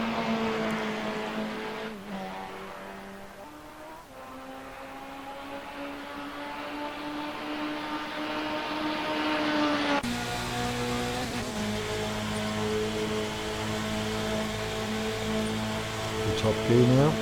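An LMP race car engine in the Assetto Corsa video game revs steadily higher in pitch, shifts up about midway, then climbs again with a loud, sustained whine.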